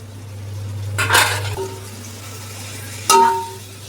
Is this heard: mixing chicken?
yes